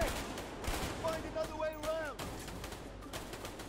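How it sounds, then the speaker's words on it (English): Gunfire directed at the player during a firefight in the video game A Way Out, a dense burst of shots under game speech and effects, with voices talking over the noise. "They're shooting at me now"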